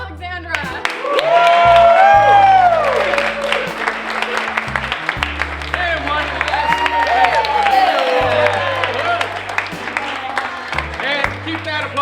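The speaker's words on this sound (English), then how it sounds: "keep that applause going for our very special guest this evening, Lidia Porto" A studio audience at a Hollywood talk-show season premiere applauds and whoops for a guest, with sustained clapping, cheers and shouts. Music plays underneath and a host speaks over the crowd.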